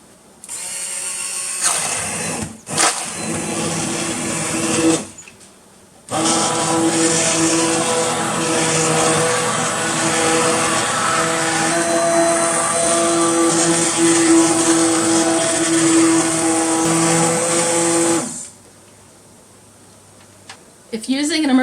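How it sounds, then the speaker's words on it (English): An immersion blender whirs through tomatoes being pureed for canned sauce, a loud steady motor drone in a long burst after brief short starts, stopping near the end. "Let's give this immersion blender a try."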